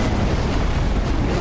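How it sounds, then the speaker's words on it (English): A fire spell cast in Dark Souls III bursts out as a dense, roaring blast that holds at full force for about a second and a half, loud and close with no talk. "Cast a spell. Fire."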